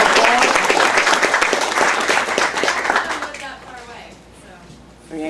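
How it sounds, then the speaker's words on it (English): An audience bursts into dense, loud applause that holds for about three seconds before thinning out and fading. Quieter room sound follows, and a brief voice comes in at the very end. "Please give her a big round of applause"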